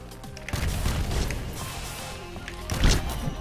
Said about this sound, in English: Oh god, the missiles.